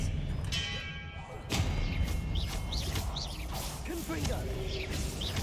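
A spell cast in Hogwarts Legacy gameplay: a thud and whooshing swish with mechanical clatter and rising chirpy magical tones, set among busy game effects while a player talks.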